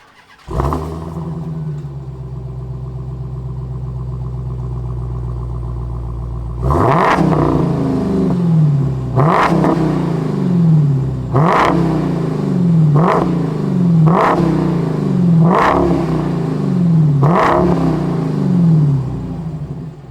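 A Dodge Challenger Demon muscle car's engine fires up and settles into a deep, loud idle, then its driver blips the throttle repeatedly, sending out a string of roughly seven sharp revs with pauses between them.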